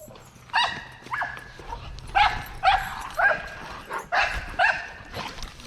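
A Presa Canario dog lets out a series of close, sharp barks mixed with high whimpers and yips, coming in uneven bursts every half second or so over a quiet background.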